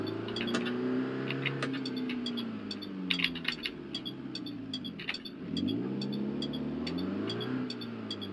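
In the BeamNG video game, a rental car's engine revs and accelerates, its pitch sweeping up, dropping at a gear change midway, then climbing again, with light clicks and no talking.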